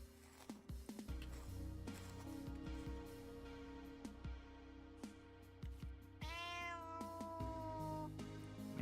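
Cats in the video game Vintage Story meow near a watermill, with one clear drawn-out meow standing out over a steady mechanical ambience.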